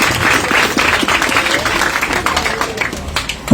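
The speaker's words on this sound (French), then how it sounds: "Applaudissez." A church audience at a French and Creole Sunday service applauds, a loud continuous patter of clapping with some distinct claps standing out, with faint voices mixed in.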